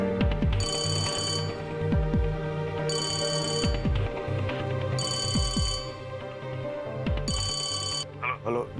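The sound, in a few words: telephone ringing during a phone call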